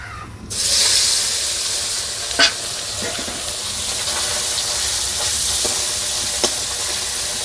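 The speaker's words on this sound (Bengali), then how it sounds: "তে মাছ আমি সব দিয়ে দিই, একসাথে ভেজে নিব।" Live desi koi fish frying together in hot, smoking oil, a steady loud hissing sizzle that rises sharply after a quiet start, with a few faint pops and clinks, no talk.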